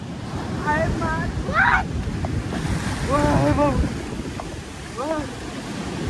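Ocean waves surge and wash continuously onto a Goa beach, with a rough, windy roar and gusty buffeting on the microphone, while a few brief voices call out over the surf.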